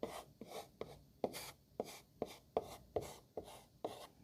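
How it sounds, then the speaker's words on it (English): A palette knife pushes watercolor paint around on paper in a steady rhythm of about ten short scraping strokes, close and quiet with no talk. "we're gonna use the palette knife, and I'm gonna push some of the paint around"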